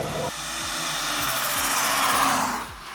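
Loud, rising whine and roar of a Mercedes fitted with a Supra engine as its T78 turbo spools up, engine tone climbing steadily under acceleration with repeated swooping pitch sweeps before easing off at the end.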